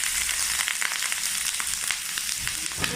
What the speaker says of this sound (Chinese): 鸡肉方面大概煎了2分钟左右呢，